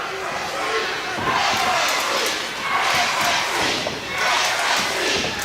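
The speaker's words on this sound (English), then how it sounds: "Crowd coming alive." Roaring crowd at a professional wrestling match, surging in loud waves of cheering and shouting that swell and fade about every two seconds, with occasional thuds from the ring underneath.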